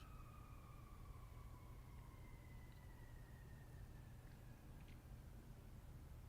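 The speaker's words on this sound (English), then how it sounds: "I had a weird thought with the siren going by right now" An emergency vehicle siren wails past outside, faint and distant, its slow gliding tone sliding gradually downward over a steady background hum indoors.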